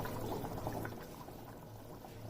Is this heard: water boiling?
yes